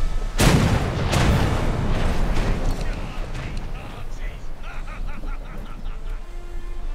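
Warship guns fire in War Thunder, opening with a loud, heavy boom followed by a second blast and fainter rumbling shots, while voices and light laughter run underneath.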